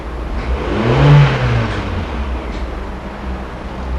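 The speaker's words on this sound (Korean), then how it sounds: "안전을 위해서 브레이크 위치에다 파킹해다 놓으신 상태에서 제가 한번 악셀레터를 밟아보도록 하겠습니다" A parked car's engine revs as the accelerator is pressed during a used-car diagnostic check, with a smooth rising and falling mid-pitched rev heard nearby, fairly steady and without voices.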